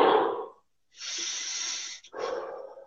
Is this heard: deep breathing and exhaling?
yes